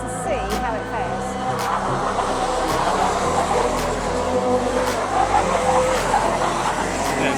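Racing kart with a rebuilt race engine out on track, a buzzing engine note that climbs and drops through gear-like pitch sweeps, with a voice talking over the running kart.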